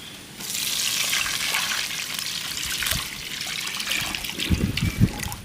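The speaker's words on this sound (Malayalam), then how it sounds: "ഒരു ഏഴ് ഗ്ലാസ് വെള്ളം ഞാൻ തിളപ്പിച്ച് വെച്ചതാണ് ഇതിലൊഴിക്കുന്നുണ്ട്" Boiled water is poured into a pot for ghee rice, a continuous splashing stream that runs for several seconds and ends with a few heavier sloshes, with no talking.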